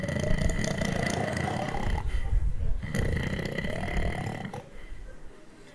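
A person at a wedding party imitates loud snoring with repeated drawn-out rasping snores, close and prominent.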